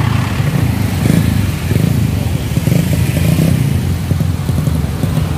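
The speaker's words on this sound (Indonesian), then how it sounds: "situasi sekarang di Jalibar bosku ya kayak gini kemacetannya ya beberapa kilo ya super panjang" A traffic jam full of motorcycles on the Blitar–Malang road during the Lebaran 2023 homecoming rush, with a steady dense rumble of idling and creeping engines and clattering close by.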